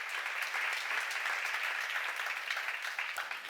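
A church congregation at a worship seminar breaks into dense, sustained applause, loud and continuous, many hands clapping together with no voices standing out.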